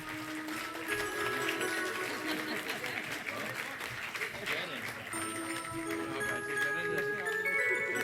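An audience applauds to welcome actress Hema Malini at an evening event, steady clapping continuing throughout at moderate distance, with music and voices mixed in beneath.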